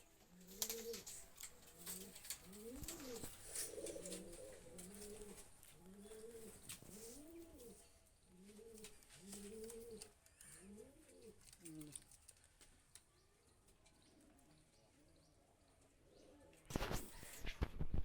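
Crested Giribaz pigeons kept at a house coo repeatedly in a rhythmic series of soft, rolling calls close by, with a few faint chirps and a sharp rustle near the end.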